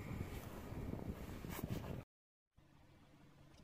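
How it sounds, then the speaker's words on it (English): Strong gale-force wind on a Yorkshire hillside camp buffets the microphone in loud, rough gusts, cuts out abruptly to silence, then returns as a softer steady rush. "It's blowing a gale."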